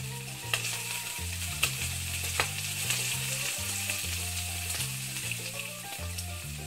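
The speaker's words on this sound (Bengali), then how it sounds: "এবার কড়াইতে সাদা তেল," White cooking oil heating in a wok for a Bengali dish, a strong continuous frying sizzle with a few sharp ticks from stirring, close and without talk.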